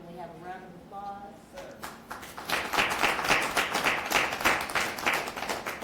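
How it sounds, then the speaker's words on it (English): A book discussion audience gathered in a library bursts into applause after a short stretch of talk, the clapping building quickly into a loud, dense round that carries on to the end. "So can we have a round of applause?"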